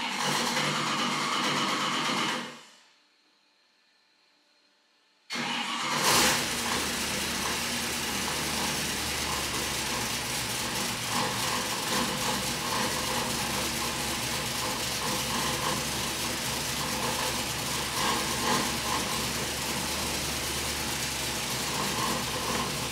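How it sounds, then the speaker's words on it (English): A carbureted Ford engine on a dyno, steady near idle and warming up, running loud and continuous after a short silent gap. "All right, we've got our Ford running and starting to warm up."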